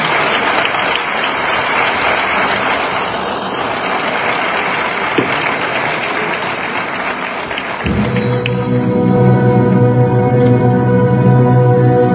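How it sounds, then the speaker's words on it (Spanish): Applause from an audience at a national copla contest in Córdoba greets a singer, filling the hall with steady clapping for about eight seconds before giving way to sustained music. "Vamos a recibir con muchísimo cariño y con un fuerte aplauso a las ganadoras del año 2022"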